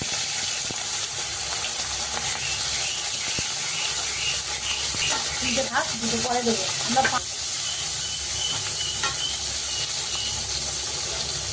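Fresh bata fish frying in hot oil makes a constant bright hiss and sizzle through the whole stretch, while someone talks over it in the middle.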